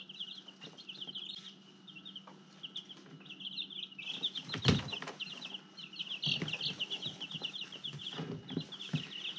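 Black and white chicks peep and cluck in rapid, high chirps indoors, with occasional rustling and fluttering bumps nearby.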